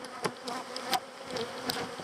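Honey bees buzz continuously around their hive, a close, dense hum with individual insects flitting past the listener.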